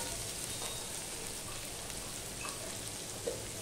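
Nigella seeds, green chili and onion sizzle in hot oil for a Bengali bata fish curry, a steady close crackling hiss running evenly throughout with a few small pops.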